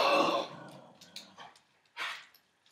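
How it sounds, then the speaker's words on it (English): Dogs barking in short separate outbursts, one loud burst up close at the start and then several fainter, briefer barks spaced across the rest, with no talk over them. "those were dogs, in case you weren't sure"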